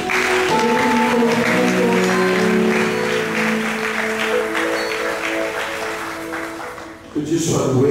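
A church congregation applauds at a service, a dense, sustained clapping that fills the room. A loud voice and tones carry over it, and the applause fades near the end.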